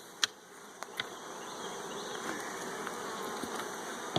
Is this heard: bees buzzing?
yes